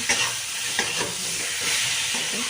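Pointed gourd, already fried, being sautéed with spices in a pan for a mung dal and gourd kalia, with a steady sizzle and a few sharp scraping stirs of a spatula at intervals, close by and with no talking.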